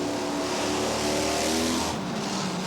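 A heavy twin-engine monster truck engine roars steadily and loudly, holding a thick revving drone that shifts slightly in pitch near the end, with no voices over it.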